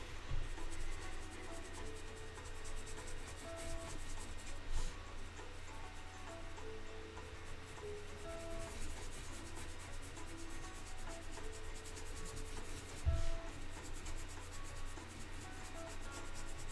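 Colored pencil blending over red on paper, a faint, continuous close-up rubbing and scratching that runs steadily throughout with no voices.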